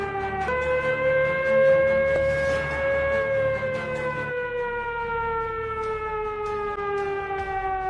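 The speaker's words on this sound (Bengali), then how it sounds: "বেজে উঠছে সাইরেন" A hospital emergency siren wails steadily during a mock disaster drill at Karimganj Civil Hospital, a loud rising-and-falling civil-defense tone sustained throughout with no voices over it.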